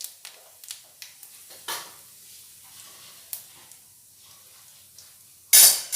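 Dry red chilli halves, cumin seeds and turmeric fry in hot oil for a potato and papaya curry, giving a soft, steady sizzle with a few light clicks and one sharp, loud burst of spitting near the end.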